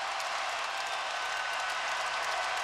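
A basketball crowd at Ohio State at Kansas keeps up a dense, even roar of cheering and clapping, fairly distant and moderate in volume, with no voices standing out.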